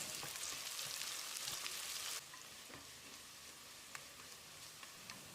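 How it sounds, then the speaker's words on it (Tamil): Onions and a quarter cup of thinly sliced coconut sauté in a pan with a faint, steady sizzle that eases a little after two seconds, with no talk over it. "வெங்காயத்தை செவந்து வர்ற அளவுக்கு வதக்கிடலாம்."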